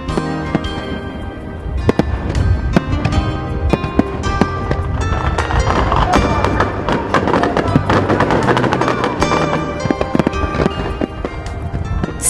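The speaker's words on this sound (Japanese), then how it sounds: "1時間におよそ1万発の花火が会場5カ所から絶え間なく打ち上がり" Continuous barrage of fireworks launched from several sites over Ito Orange Beach during a large seaside festival, including star mines and an aerial Niagara: dense, loud overlapping bursts and crackles with sharp bangs, steady throughout.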